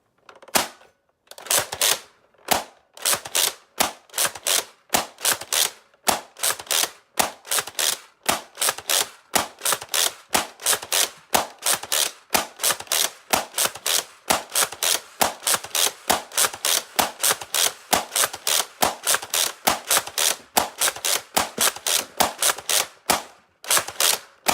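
A Nerf Rival Hades blaster with a K26 spring upgrade, freshly reassembled, fires a long, steady string of sharp, loud snapping shots through a chronograph, evenly spaced at roughly one per second with short pauses.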